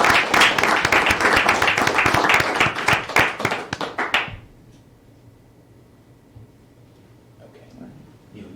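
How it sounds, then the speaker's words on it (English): People at a Gaithersburg mayor and council meeting applaud the city council, lively close clapping for about four seconds that stops abruptly, followed by quiet room tone with faint voices. "I'd like to give a round of applause to this great city council."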